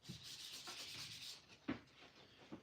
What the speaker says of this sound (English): I'm going to give this handle here a quick sand